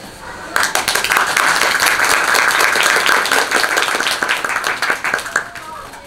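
An audience claps steadily along to a bright samba-style song performed by a girls' high school brass band at a Christmas party concert; dense, even handclaps fill the whole stretch at close range.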